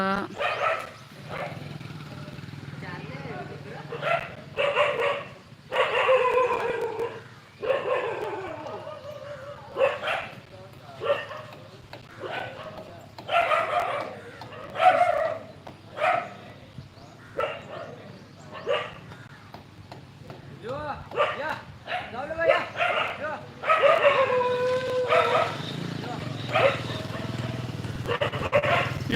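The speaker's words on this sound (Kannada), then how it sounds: "ಅದು ನಮ್ಮ ನಾಯಿ ಬೊಗಳಾಕತೈತಿ ಇಲ್ಲಿ" A dog barks at another dog that has come near a home, with repeated sharp barks scattered through the clip and a person talking over and between them.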